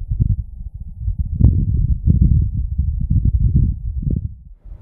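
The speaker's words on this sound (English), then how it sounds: "This is the sound of wind on Mars." Wind on Mars picked up by the Perseverance rover's microphone: a low, steady rumbling whoosh that swells and eases for about five seconds, heard alone and close, with no voices.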